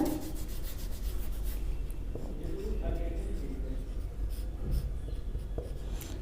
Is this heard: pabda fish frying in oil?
no